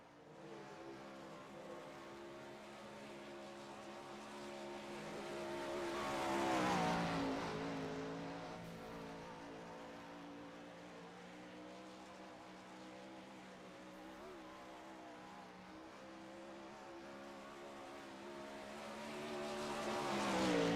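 A race car roars steadily around Eldora Speedway in the iRacing video game, the engine drone swelling and fading as it laps, moderately faint with no talk over it.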